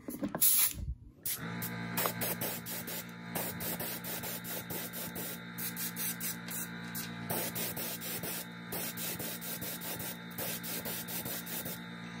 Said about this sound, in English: You get a really cool fade pattern if you hold your, your airbrush and let the paint just fall